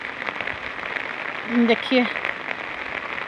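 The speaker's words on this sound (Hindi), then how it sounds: "मैं बारिश में निकली हूँ" Rain falls steadily as broadband hiss across the whole clip, with a short burst of talk in the middle, somewhere in Mizoram.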